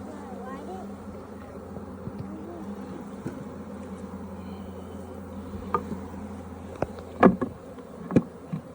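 Honeybees at a newly split beehive, a steady close drone of buzzing throughout, with a few thumps and knocks of handling the hive near the end.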